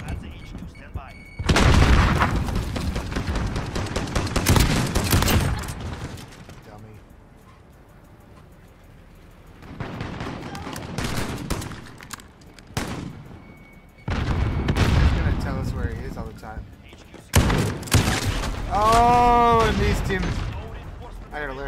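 Shooter video game gunfire, with repeated bursts of loud shots and booms in several clusters separated by quieter gaps, and talk heard in between.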